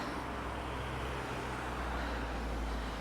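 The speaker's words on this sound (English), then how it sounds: "It's a very busy road, isn't it? The traffic's quite loud." Busy road traffic outside shops by the Pleasure Beach in Blackpool, a continuous low rumble of passing cars and vehicles heard close and steady with no talk.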